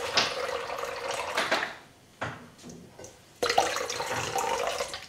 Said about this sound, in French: Donc je rajoute un peu d'eau.